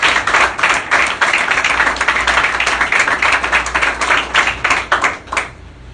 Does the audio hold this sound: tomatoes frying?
no